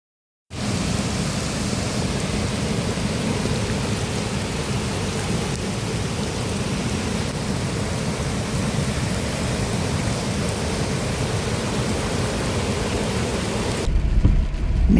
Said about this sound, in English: the rain just kept on coming. It hammered down for days.